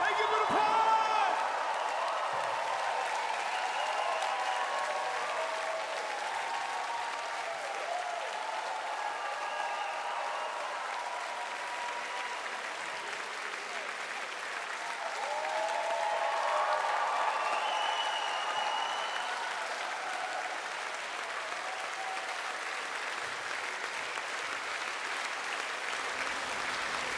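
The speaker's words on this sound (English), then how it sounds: "Thank you for the applause." Audience at a live rock concert of the Rocktopia show, sustained applause from a large crowd, a broad steady wash of clapping that lasts throughout with a slight swell midway.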